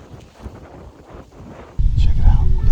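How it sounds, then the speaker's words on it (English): A gusty north wind buffets the microphone outdoors at a bowhunting spot, rising suddenly into a loud, low rumble partway through, with a voice speaking over it. "Check it out, we got a north wind and it's directly in the face."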